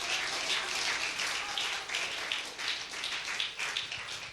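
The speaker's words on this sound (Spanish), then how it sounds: "dele al Señor un fuerte aplauso" A church congregation gives a loud, sustained round of applause, with dense clapping and scattered louder claps running steadily throughout and no speech over it.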